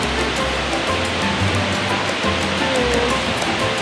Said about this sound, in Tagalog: Kusog kayo ang niyang agas sa tubig.